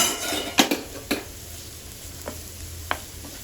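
An onion mixture with salt, chilli powder and coriander fries in a pan for egg puff filling, a soft sizzle under several sharp spatula clinks and scrapes against the pan.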